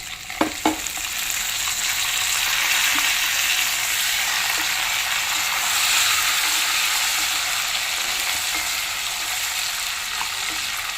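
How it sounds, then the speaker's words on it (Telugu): Green chillies, garlic and curry leaves fry in hot oil, giving a dense, continuous close sizzle with a couple of sharp pops at the start, steady and loud throughout. "పచ్చిమిర్చి, వెల్లుల్లి, కరివేపాకు వేసేస్తున్నా."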